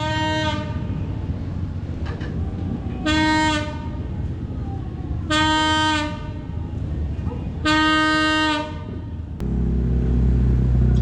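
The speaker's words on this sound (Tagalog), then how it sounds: "abangan talaga yung dumaan na tren dito sa PNR" PNR passenger train from Lucena passing through Candelaria, Quezon at dawn, rumbling steadily and close while its horn blows four long, loud blasts, ending with a heavy roar of the passing cars.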